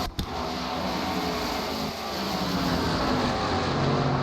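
Race cars roar around the short oval at North Wilkesboro in a racing game, with a dense, continuous engine wash that swells as the pack of lapped cars passes close by. No one speaks.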